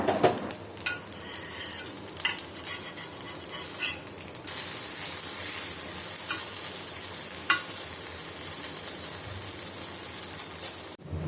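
Sago adai dosa cooks on a pan with a steady sizzle and frying hiss throughout, punctuated by a few brief scraping turns, with no voices.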